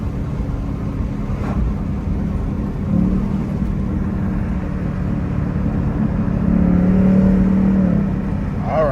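A Ford Mustang S550 Mach 1 drives at speed with a steady low engine drone and road and tire roar, swelling slightly near the end as the car pushes harder.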